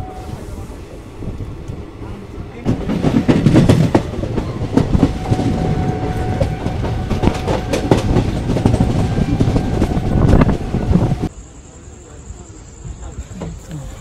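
Inside the Teesta Torsa Express sleeper train, a quieter hum gives way to a loud, close rumble and rapid wheel clatter with wind buffeting, then drops back to a low hum with a steady high tone near the end.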